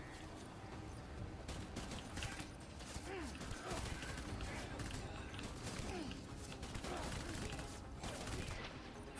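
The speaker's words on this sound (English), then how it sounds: "No one told me there was gonna be shooting in this game." Gunfire in Death Stranding, scattered shots and clattering mechanical noises spread through a busy game soundscape at low level, with faint voices and rumbling ambience throughout and no single dominant blast.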